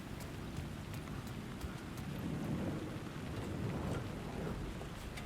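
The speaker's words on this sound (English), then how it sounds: "the rain had stopped and it starts up again" Steady rain patters with low rolling thunder in the Alan Wake II video game, a constant soft wash of drops on surfaces with a deeper rumble swelling midway.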